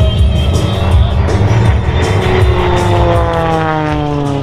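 An aerobatic propeller airplane performs at the Wings Over Wayne airshow, its engine roaring steadily and loudly as the pitch slowly falls while it passes overhead.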